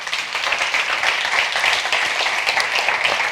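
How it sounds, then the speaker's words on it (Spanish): An audience at a film festival talk session gives the arriving film teams a strong round of applause, a bright, dense clatter of many hands clapping steadily from start to finish. "os voy a pedir que les recibamos, como siempre, con un fortísimo aplauso"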